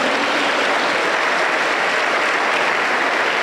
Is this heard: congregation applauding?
yes